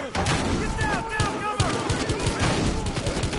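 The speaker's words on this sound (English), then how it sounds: "Ow, they shot him!" Rapid bursts of gunfire crackle in a shootout in the cop game Battlefield Hardline, loud and close, with shouting voices mixed in over the shots.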